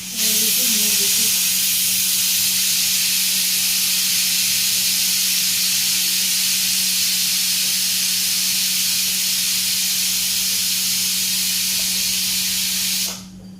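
A pressure cooker making bisibelebath lets out a loud, steady steam hiss that runs unbroken for about thirteen seconds, with a low hum beneath it, then cuts off abruptly.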